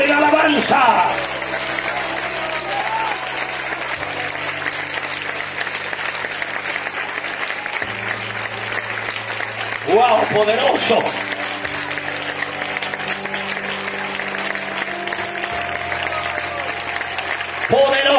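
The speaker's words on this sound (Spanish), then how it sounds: "Den un aplauso fuerte por un minuto." Loud, sustained applause fills a church as a congregation claps at length during a sermon; a man briefly exclaims over the clapping, with music tones running beneath.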